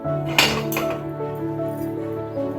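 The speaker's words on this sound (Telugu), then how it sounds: "ఇలా స్పూన్తో కొంచెం కొంచెం తీసుకుని ఇలా వేసేసుకుందామండి" A metal spoon scoops palm-fruit batter into a paniyaram pan for ponganalu, giving two sharp, close metallic clinks early on and then softer scraping and light taps against the pan.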